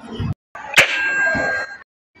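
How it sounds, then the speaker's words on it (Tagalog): A telephone receiver is set down onto its cradle with a single sharp clang and a brief ringing ding, close and fairly loud, after a short pause, with a sustained tone lingering afterward. "why did I hang up the phone like that?"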